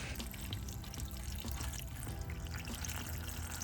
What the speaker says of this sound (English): we're just gonna make sure that we get some water in there